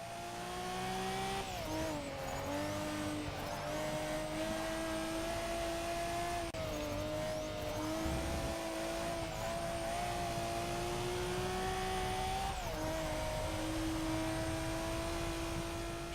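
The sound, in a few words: fully modified JDM car racing in Forza Motorsport 6 video game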